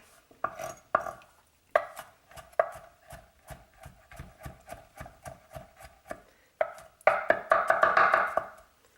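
A knife chops vegetables on a cutting board for a veggie roast, with steady rhythmic close thuds that break off briefly and then speed into a dense, rapid burst near the end.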